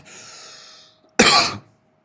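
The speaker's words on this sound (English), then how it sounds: "I'm sorry about my cough" A single sharp cough, close and loud, following a quiet breathy sound, then silence.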